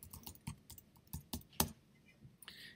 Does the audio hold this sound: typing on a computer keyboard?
yes